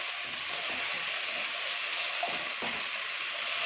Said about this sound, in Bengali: ভালো করে এবার একটু কষিয়ে নেব